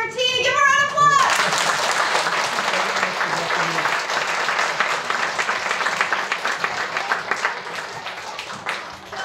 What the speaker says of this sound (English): Mayor Fiorentini, give her a round of applause.